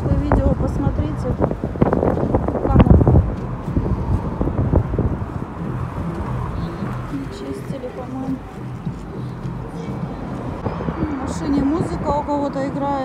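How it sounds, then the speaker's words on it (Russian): Gusty wind rumbles and buffets the microphone while someone talks over it outdoors in Novokuznetsk. "Ветер прям, не знаю, думаю, что слышно."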